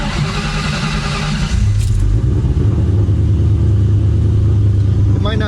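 A deep, loud exhaust rumble from a cammed Ford Mustang Terminator Cobra, steady and throbbing after a brief rev, heard close from inside the car.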